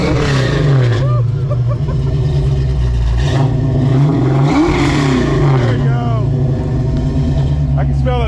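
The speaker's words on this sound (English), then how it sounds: "let's get a couple exhaust notes real quick since we're revving" A 427 naturally aspirated V8 in a Fox Body Mustang revs loudly and repeatedly, its exhaust note sweeping up and down in sharp blips close by, with voices partly heard under the engine.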